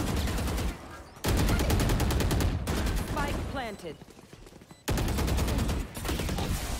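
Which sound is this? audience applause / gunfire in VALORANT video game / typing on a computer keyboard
gunfire in VALORANT video game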